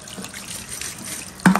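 Tap water runs over a removable washing machine part as it is rinsed in a sink, a steady soft trickle that turns to a brief louder splash near the end.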